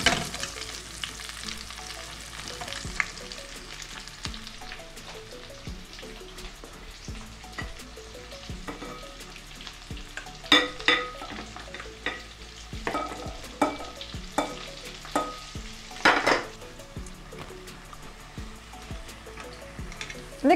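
Cauliflower pieces frying in hot oil give a steady sizzle with scattered sharp pops and clinks, louder crackles bunching up partway through, and no voices.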